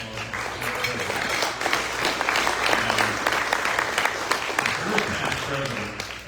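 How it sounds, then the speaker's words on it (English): A crowd at an anniversary luncheon applauds steadily, a dense patter of many hands clapping throughout, with some voices mixed in. "How about a round of applause?"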